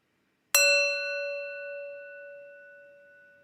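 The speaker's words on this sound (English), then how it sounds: "Let's warm up the bell." A single meditation bell struck once for a mindful moment, a bright metallic strike that rings out alone and decays slowly over several seconds with a sustained tone.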